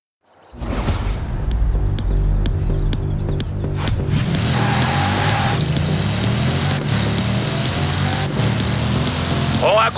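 A Bugatti Chiron races through a chase in Forza Horizon 4, its engine a loud, sustained roar that rises and shifts, with whooshes and brief tire squeals.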